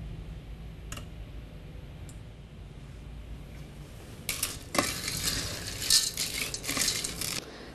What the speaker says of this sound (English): So we just stir the chocolate just to make sure no actually settles on the bottom of the saucepan